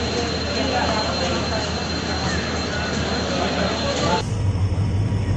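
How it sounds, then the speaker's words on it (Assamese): A passenger train pulling out of Rangiya Junction rumbles with a low, steady rolling drone and faint rail squeal, heard from inside a coach, with an abrupt shift near the end. "আৰু ফাইনেলি আমাৰ ট্ৰেইনখন চলিবলৈ ধৰিলে"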